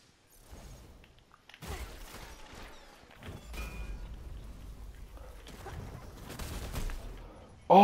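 Shotgun blasts in a video game, scattered heavy booms and crashes at moderate level amid quieter game noise, with a sharp loud hit at the very end.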